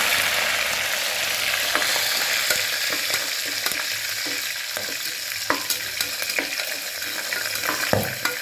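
Green chillies and curry leaves frying in hot oil for a fish curry, a loud, dense sizzle up close with frequent clicks and scrapes of a spoon stirring the pan.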